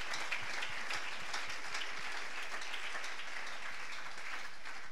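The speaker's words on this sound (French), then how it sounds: "Pouvons-nous acclamer la parole du Seigneur?" A church congregation applauds to acclaim the word of the Lord, with steady, dense clapping from many hands that fills the room without a break.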